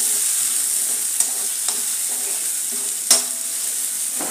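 Curry leaves frying in hot oil in a pan give a steady bright sizzle, with occasional spoon scrapes and knocks against the pan as they are stirred; no one speaks.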